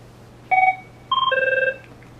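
An Avaya 9620 desk phone rings for an incoming call: two clear electronic chirp bursts, a short one and then a longer warbling one, close and loud over a low steady hum, with no talking.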